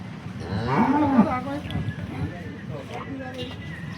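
A red dairy cow on a farm lets out a close, deep moo, while people talk nearby and the farmyard sounds go on around it.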